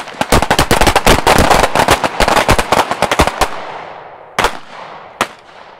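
Four-round handgun strings fired while moving, a rapid, dense volley of loud sharp cracks for about three seconds, then two isolated single shots, close and loud, without talk.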